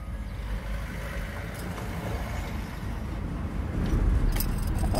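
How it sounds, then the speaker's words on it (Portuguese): A Mercedes car engine idles steadily after starting, a continuous low rumble that grows slightly louder toward the end, with no speech over it. "O carro já trabalha muito bem."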